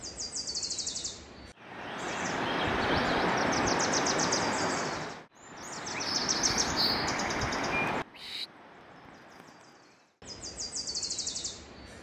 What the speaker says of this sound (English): Take a look at this Wilson's warbler.